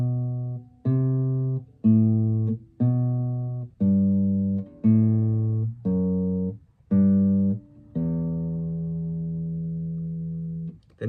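Slow acoustic guitar picking of a song's intro phrase: a string of clear, separately plucked notes in a steady, deliberate rhythm, ending on a long ringing note, with no voice over it.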